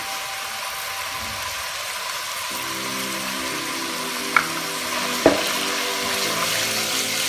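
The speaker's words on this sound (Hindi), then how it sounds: "7 से 8 मिनट के लिए फ्राई करेंगे मीडियम फ्लेम पर" Chicken pieces frying in a pan over a medium flame for chicken macaroni, a steady close sizzle with a couple of clinks of a utensil against the pan midway.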